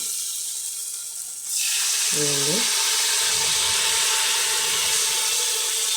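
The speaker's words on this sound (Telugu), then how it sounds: "వేగిందండి ఇప్పుడు నీళ్ళు పోసేసుకుందాం" A sudden rush of water poured into a hot pot of frying chicken biryani ingredients swells into loud, steady sizzling and bubbling, with a brief voice partway through.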